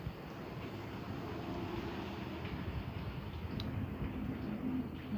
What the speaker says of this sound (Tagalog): Tuloy-tuloy na po yung hangin po.